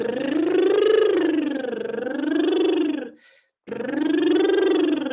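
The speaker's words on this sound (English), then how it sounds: "Lip trill light kind of sounds like this," A light lip trill vocal exercise, a sustained buzzing hum with gliding pitch that rises and falls, near and steady, broken by one short pause for breath before resuming.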